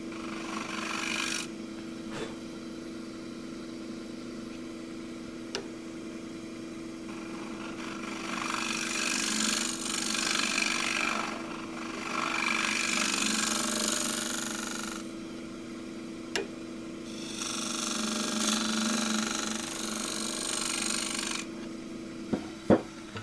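A scraper tool cuts across the bottom of a wooden bowl spinning on a lathe, giving a steady rasping, rubbing hiss that swells and fades in long passes, with a few faint clicks and no speech.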